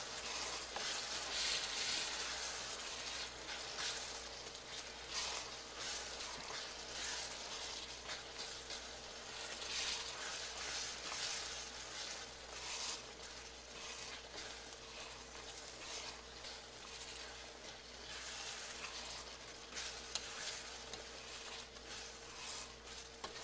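Butter sizzles and melts in a pan of Thai curry, a soft, continuous frying hiss with faint stirring scrapes throughout, quiet and close, with no voices.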